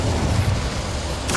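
Incendio, a fire spell in the PS5 game Hogwarts Legacy, fills the moment with a dense, crackling roar that holds steady and loud for a second and a half.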